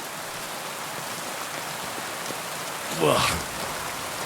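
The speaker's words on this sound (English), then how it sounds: "At least it's raining." Steady rain patters across the scene in the video game Kingdom Come Deliverance 2, an even hiss of drops throughout, with a short spoken word and a brief rising sound near the end.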